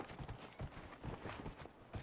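Hooves of a horse in a video game clip-clop in a steady, fairly quiet rhythm as it is ridden indoors, a run of repeated footfalls with faint background ambience.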